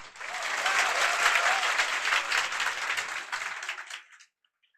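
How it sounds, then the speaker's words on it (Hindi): A class audience in a polity lecture bursts into applause, many hands clapping together at close range for about four seconds before stopping abruptly into silence. "चलिए एक बार ताली बजा दीजिए।"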